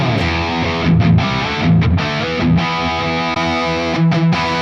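A heavily distorted electric guitar plays through a Mesa/Boogie amp tone model, loud and gritty with sustained chords and brief pauses, harsh and cutting, with no voices.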